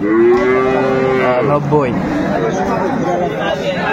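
A cow with her calf at a cattle market hat in Aftabganj gives a loud, long, nearby moo, with market chatter and voices talking throughout.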